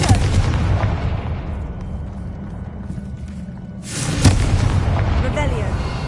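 A Confringo fire spell in the Hogwarts Legacy game unleashes a booming blast, a loud rumbling roar that fades and then erupts again with a second burst.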